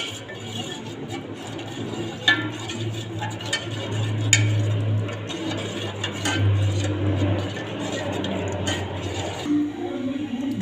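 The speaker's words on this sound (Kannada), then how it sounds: "ಅದಕ್ಕೆ ಕೈ ಬಿಡ್ಲಾರ್ದಂಗೆ ಚಮಚ ಕಲಿಸ್ತಾ ಇದೆ" A spoon stirs ragi ambali in a pot, giving soft scraping and occasional light clinks against the metal over a steady low hum, with no one speaking.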